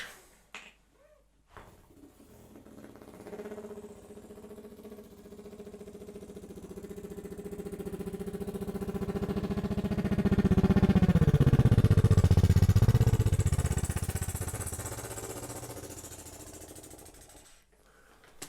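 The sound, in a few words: beatbox imitation of a helicopter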